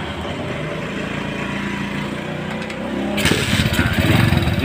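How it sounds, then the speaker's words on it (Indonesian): A motorcycle being serviced for a weak ignition and hard starting fires up and keeps running, a steady engine drone that grows louder and rougher after about three seconds, close by with no talk. "Ini motor sudah hidup ya"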